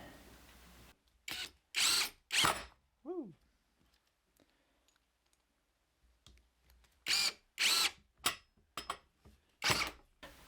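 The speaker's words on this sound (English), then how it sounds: "You don't have to pre-drill, but I rather enjoy doing that." A power drill pre-drills holes in wood for building saw horses, giving short whirring bursts: three in quick succession, then a pause and a cluster of several more, each close and fairly loud.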